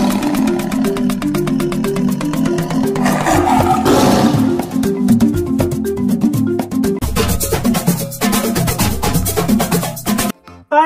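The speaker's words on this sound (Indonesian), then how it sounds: "ada harimau" A tiger roars loudly several times over a layered, busy soundtrack, the roars swelling and fading before the sound cuts off abruptly near the end.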